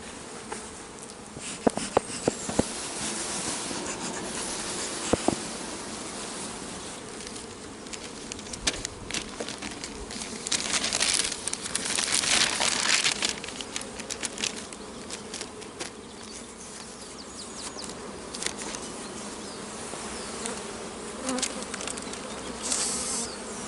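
Honey bees swarm and drone loudly inside an opened hive, a dense continuous buzz, close up, with scattered light taps and rustles.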